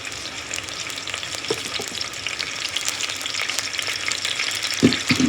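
Oil sizzles and fries steadily in a pan while stuffed eggplant curry is prepared in a Gujarati village-style kitchen, a continuous crackling hiss with a few louder pops near the end.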